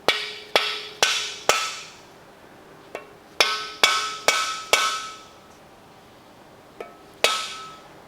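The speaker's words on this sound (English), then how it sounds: "we're going to hammer the bearing flush against the engine block" A mallet hammers a bearing into an LS engine block, striking metal repeatedly in quick clusters of sharp, ringing blows, with short pauses between groups, close and loud.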